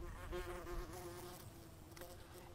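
Buzzing bee from a British children's TV show, a close, steady droning hum with shifting pitch, fairly quiet, with no speech over it.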